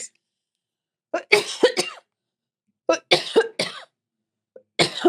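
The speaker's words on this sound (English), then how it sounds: "the cough would show up now" Several coughs in separate bursts: a pair of harsh coughs, then a cluster of three, then another after a pause, close and loud against silence.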